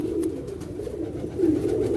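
A Lakha high-flying pigeon coos close by, a low, soft, rolling call that swells and fades twice over a quiet background.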